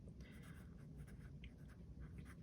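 A pen scratches across the pages of a paper fitness planner, soft, close strokes running in quick uneven bursts over a low, steady background hum, with no talking.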